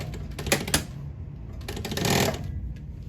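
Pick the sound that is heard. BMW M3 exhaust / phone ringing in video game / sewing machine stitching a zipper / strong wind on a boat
sewing machine stitching a zipper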